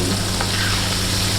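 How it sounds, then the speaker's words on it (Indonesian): Leftover batter crumbs from making crispy shrimp fry in hot oil, giving a steady close sizzle and crackle with a faint stir partway through, with no voices. "sisa dari saringannya bisa kita goreng, nanti jadi crispy"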